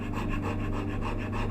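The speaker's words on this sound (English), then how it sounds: "Because the big rasp leaves quite a rough surface." Big rasp filing wood on a turning bow saw, steady rhythmic rough scraping strokes in quick succession, close and continuous.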